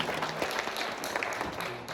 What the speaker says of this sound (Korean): 뜨거운 박수 한번 하겠습니다